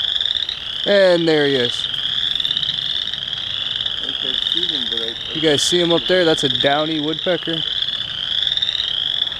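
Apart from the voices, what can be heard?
frogs croaking in a wetland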